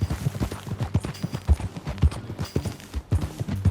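Horse hooves clip-clopping in Red Dead Redemption 2 as riders mount up and set off, a close, fairly loud, uneven trotting rhythm of hoof strikes with no talk over it.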